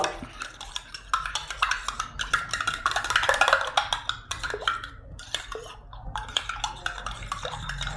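A herbal mixture of pepper and garlic with lukewarm water stirred in a glass, a busy run of quick clinks and scraping taps, close and moderately loud, with no voices.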